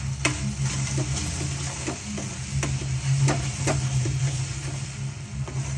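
A spoon stirs and sautés a sticky amla (Indian gooseberry) candy mixture in ghee in a pan. Close sizzling runs under regular scraping strokes and occasional metallic taps.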